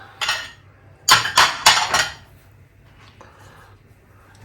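Pork stroganoff stirred in a pan, a few sharp clinks and scrapes of a spoon against the pan in a quick burst, then quieter faint shuffling.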